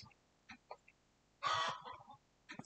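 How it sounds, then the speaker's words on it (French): Hens cluck in the background in short, scattered bursts, one louder squawking cackle among softer intermittent clucks, fairly quiet and somewhat distant. "Bon, vous avez le bruit de fond de poule, hein."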